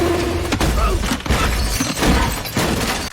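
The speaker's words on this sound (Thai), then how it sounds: "รถ Ford Mustang Mark I ก็พังยับเยินแทบไม่เหลือชิ้นดี เพราะถูกชนแหลกแบบนี้" Ford Mustang Mark I being smashed in a crash scene from a John Wick film, a loud, dense clatter of breaking and crunching that fills the whole moment.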